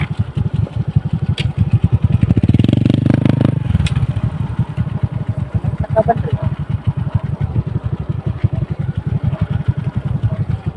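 Small motorcycle, such as a Honda TMX, Suzuki Raider J 110 or Smash 115, riding a rough farm road, its steady mid-pitched engine chugging close by with clatter and a brief louder rev midway.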